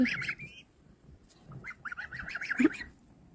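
A domestic goose on a farm with goslings gives a few short, raspy calls, loud and close, in two bursts separated by a quiet pause.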